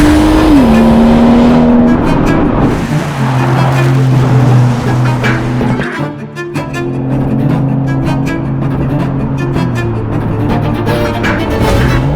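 Deep V12 exhaust of a modified Rolls-Royce Cullinan Series II rumbles loudly and revs, dipping briefly midway before the steady roar resumes, close to the listener.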